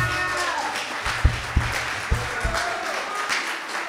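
A church congregation applauds and cheers in a steady wash of clapping, with a few louder claps and voices rising through it.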